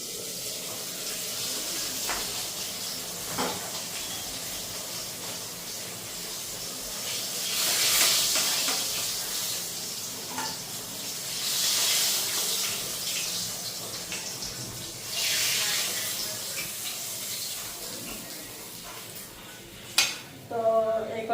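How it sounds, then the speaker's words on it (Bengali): Fish frying in a covered pan, a continuous hissing sizzle that swells and eases in waves, with a few soft knocks and a sharper clatter near the end. "এখন যেগুলি ভাজা হচ্ছে এগুলি নামাইনি।"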